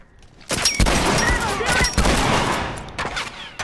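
Shotgun fire in a first-person shooter video game, several loud close blasts in quick succession with booming tails and clattering between shots.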